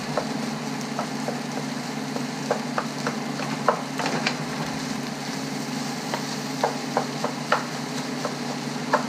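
Fried rice with egg, corn, carrots and ham is stirred and broken up in a hot pan. A steady close sizzle runs throughout, with frequent sharp scrapes and taps of the utensil breaking up clumps.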